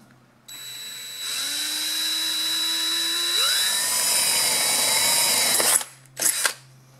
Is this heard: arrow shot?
no